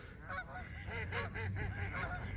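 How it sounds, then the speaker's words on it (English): Canada geese honk repeatedly from a large winter flock of mixed waterfowl, a chorus of overlapping calls at middle distance over steady outdoor background noise. "Ducks, Canada geese."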